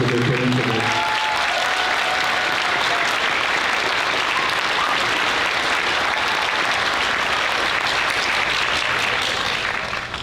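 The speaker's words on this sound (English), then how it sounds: "I would encourage you to give them a round of applause" A middle school band concert audience gives the 7th grade band a long, loud round of applause, thick sustained clapping from a large crowd, with a voice heard briefly at the start before the clapping swells.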